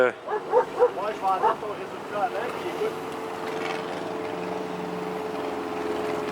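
Police canine unit dog barking in a burst of repeated sharp barks over the first few seconds, followed by a steady engine-like hum, with someone talking over parts of it.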